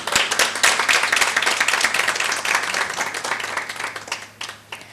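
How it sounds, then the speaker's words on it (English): A room of breakfast guests claps for Robert in a dense, lively round of applause that holds steady for several seconds before thinning slightly toward the end. "please let's applaud him for that"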